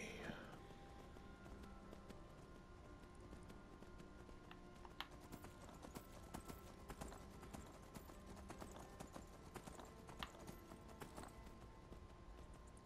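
Soft, rhythmic horse hoofbeats in the video game Skyrim clop steadily in the background, with scattered clicks on top; the sound is quiet and continuous.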